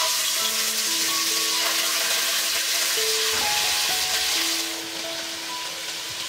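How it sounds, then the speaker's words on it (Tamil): Chicken frying in hot refined oil gives a steady, loud, bubbly sizzle that runs throughout, easing slightly toward the end, with faint stirring clinks and no talking. "ஸோ எண்ணெய் நல்லா சூடானதுக்கப்புறமா நம்ம சிக்கன் வந்து அதில் போட்டு ஃப்ரை பண்ணிடலாம்."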